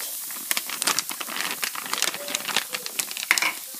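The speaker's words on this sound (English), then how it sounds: "I'm going to add in just this whole bag of the fake meat" A bag of frozen fake meat tips into a pan of sauteed onions for stuffed peppers, close crinkling of the plastic bag and soft crackling sizzle as the pieces land, no talking.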